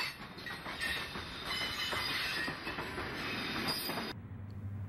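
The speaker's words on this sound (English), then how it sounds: "This is another D&H train under Susquehanna operation on former Central New Jersey" A D&H train under Susquehanna operation rolls along former Central New Jersey tracks with a loud, steady rumble, rhythmic wheel clatter and high squealing, before the sound cuts off abruptly near the end.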